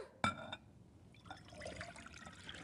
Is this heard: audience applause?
no